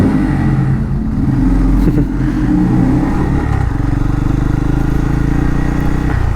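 A Bajaj Pulsar N250 motorcycle engine, bought new and about 5000 km old, runs loudly and steadily up close, its rough mid-pitched drone and clatter holding without pause and no talking over it.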